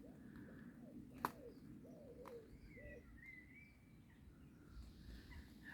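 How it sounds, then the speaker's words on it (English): A pigeon cooing in an English cottage garden in April, soft repeated coos at moderate distance with other small bird chirps and a faint outdoor ambience, no talking. "I was just listening to the pigeon."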